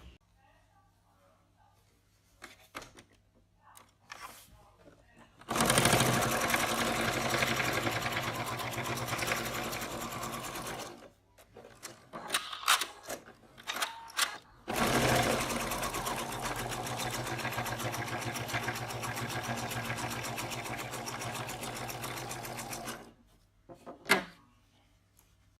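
A sewing machine runs a basting stitch on a fabric pocket in two long steady bursts, each several seconds, close and loud, separated by brief pauses with small handling clicks.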